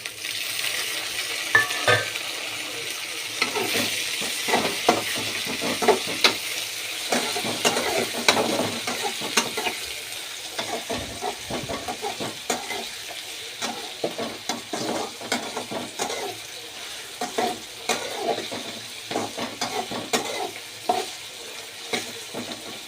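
Tomatoes frying in hot oil with half-cooked vegetables in a pan, a continuous sizzle broken by frequent scraping and clinking stirs of a utensil against the pan, steady and close, with no talking.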